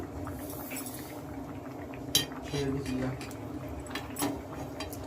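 A spoon stirs sukto, a Bengali mixed-vegetable curry with bori and fennel paste, in a pot, giving a few clinks and scrapes against the metal over a steady background hum, with a voice talking lightly at times.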